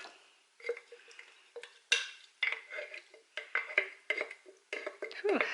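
Fruit mix is worked into a dense, dark, gluten-free fruitcake batter, making a series of thick, wet scrapes and clunks of a spoon against the bowl in an irregular rhythm, close and fairly clear.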